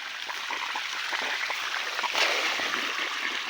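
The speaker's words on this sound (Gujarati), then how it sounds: "આનું પાણી જો અહીંયા ચાલુ થઈ ગયું" Irrigation water flowing through a field of castor plants, a steady trickling and gurgling stream heard close up, continuous and fairly loud with no talk.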